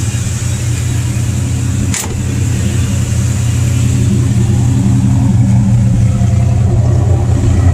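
The engine of a 1956 Chevy Nomad runs steadily at idle with a loud, close low-pitched rumble, briefly dipping around one moment before settling back into an even, continuous drone.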